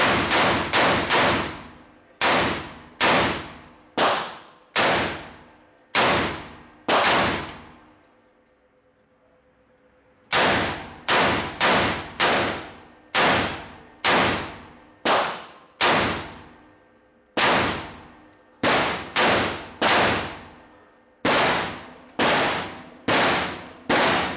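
A 5.56 rifle fires rapid shots at steel targets, each a sharp loud crack with a ringing clang. Roughly two dozen hits land in quick bursts, with one brief pause partway through.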